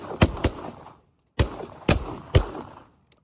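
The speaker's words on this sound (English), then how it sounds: "Gunshot, one shot." Shotgun fire while duck hunting outdoors: several sharp, loud blasts in quick succession, separated by a short pause, each cut off abruptly.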